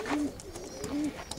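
Young pigeons coo softly in a loft, giving two short, low, rolling coos about a second apart over faint background rustle.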